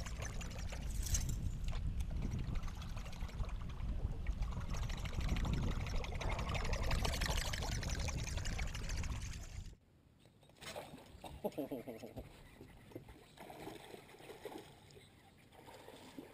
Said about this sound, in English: This is that persuader with that double metal blade with a really unique sound